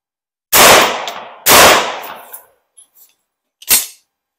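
A Bear Creek Arsenal rifle in .22 WMR rimfire fires at an outdoor range: two sharp, loud shots about a second apart, a few faint clinks, then a third, weaker report.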